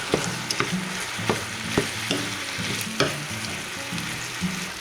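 Ground beef with peppers and onions sizzles steadily in a frying pan, with repeated scraping stirs at an uneven rhythm, close and moderately loud, no voices.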